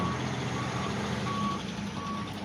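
A garbage truck or dump truck backing up gives off steady, evenly spaced reversing beeps over a constant low engine rumble.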